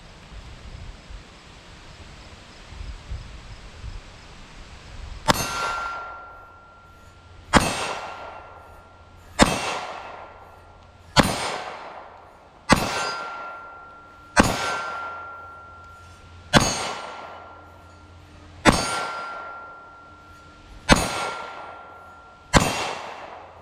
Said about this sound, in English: All right, let's do a little shooting.